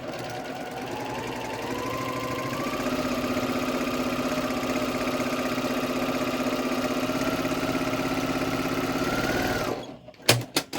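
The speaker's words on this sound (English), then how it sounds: "I've got that sewn each direction on both sides of the line" A sewing machine stitches a quilt block in one steady, close whirring run of about ten seconds, then stops with a few clicks.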